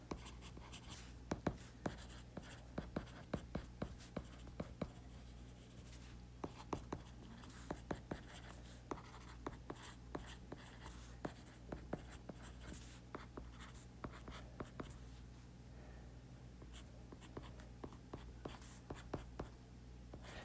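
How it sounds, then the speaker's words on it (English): A pen scratches out a short note by hand, steady close scribbling with small ticks over a low background hum for about twenty seconds. "I'm going to just write a little note."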